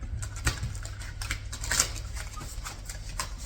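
Tarot deck being shuffled by hand gives a run of quick papery riffles and soft taps, close and fairly loud, with brief pauses between bursts.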